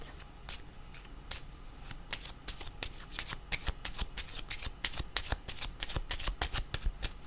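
Tarot cards being shuffled by hand nearby, a dense run of quick riffling slaps and flicks that keeps going without pause and grows slightly busier toward the end.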